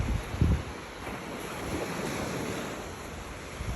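Ocean surf washing onto a shore outdoors, a steady broad wash of breaking waves with wind noise buffeting the microphone and a brief louder thump near the start, no talking.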